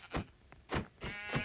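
Sheep in Minecraft Bedrock bleat quietly, a few short, wavering calls in quick succession with no talk over them.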